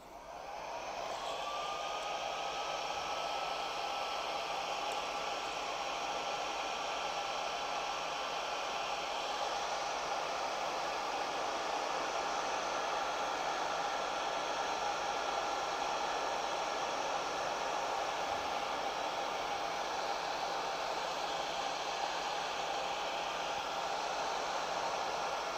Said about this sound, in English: we're just gonna use the heat gun